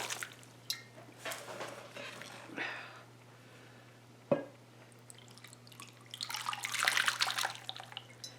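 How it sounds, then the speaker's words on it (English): Water poured onto soil in a pot trickles and splashes intermittently over a steady low hum, with a brief knock midway and a louder gush of pouring near the end. "once I water it, it's going to go down through the hole"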